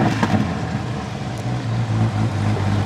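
Corvette 3LT convertible on a cold start, its engine turning over and settling into a steady, loud idle rumble close by.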